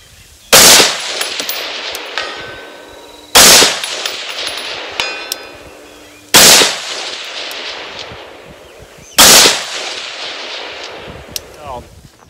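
Four loud gunshots from a rifle fitted with a Viridian green dot sight, fired at a target about three seconds apart, each sharp crack ringing with a metallic clang and decaying tail.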